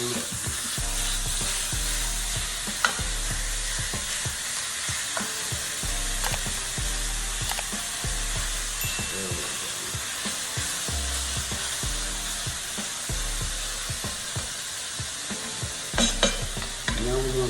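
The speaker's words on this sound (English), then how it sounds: "Go ahead and start to brown your ground chuck." Ground chuck browning in a pan for spaghetti meat sauce, a steady sizzle and fry across the whole stretch with repeated scraping and stirring strokes of a utensil against the pan, close and continuous, with no talking.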